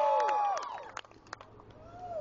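A street dance crowd cheers for a child dancer, with bright shouted voices rising and falling together and a few scattered claps, short and fairly close.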